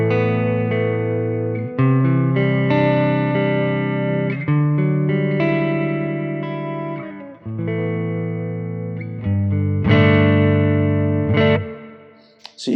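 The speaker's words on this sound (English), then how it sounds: "So you can hear this P90 is pretty beefy, has a good amount of output." A Schecter PT electric guitar played through its P90 neck pickup on a clean tone that is starting to break up, ringing chords and single notes that sustain and decay, with no voices.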